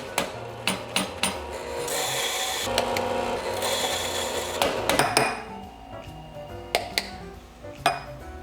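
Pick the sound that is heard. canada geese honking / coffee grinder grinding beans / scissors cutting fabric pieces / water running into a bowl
coffee grinder grinding beans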